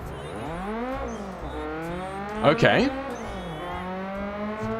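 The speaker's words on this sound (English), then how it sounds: "I'm not sure about the engine sound choice." A fan-made Mazda MX-5 style car engine in a video game revs steadily, its pitch climbing and dropping through repeated gear shifts, with a brief louder burst midway and a short spoken word over the continuous drone.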